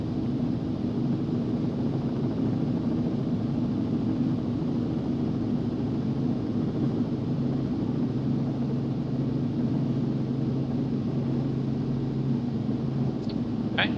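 A Robinson R44 helicopter lifting into a hover, heard from inside the cabin as a loud, steady rotor and engine drone with a constant low throb and no breaks.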